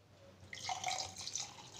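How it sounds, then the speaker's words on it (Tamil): Fresh lemon juice is poured into a glass: a short, close trickling splash of liquid that begins suddenly and keeps flowing for about a second. "கிளாஸில் ஊற்றிக்கலாங்க"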